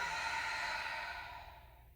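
A long, steady breath out during a stretching exercise, a soft airy rush close to the microphone that fades away at the end.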